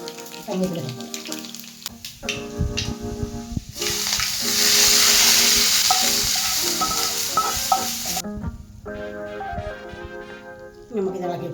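Oil hisses in a pan while a banana stem curry cooks. A broad burst of sizzling swells in the middle, and a voice talks before and after it.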